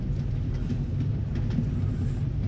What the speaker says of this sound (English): Hear the train a-coming. Roaring down the track.